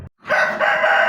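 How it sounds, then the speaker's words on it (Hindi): An Aseel rooster crows loudly and close by, one sustained crow following a brief sound and short gap, in a setting with Aseel hens. "ये असील मुर्गे और मुर्गियाँ हैं"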